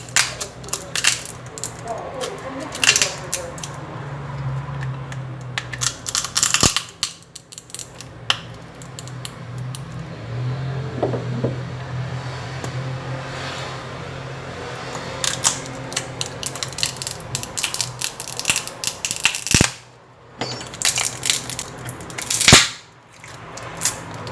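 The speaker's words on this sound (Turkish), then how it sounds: "O ayrılan bantın çıkarttığı bir ses." Adhesive tape peels apart during a Samsung A25 phone screen replacement, giving scattered close crackles, sharp snaps and small clicks over about twenty-four seconds, irregular and busy with brief quiet gaps.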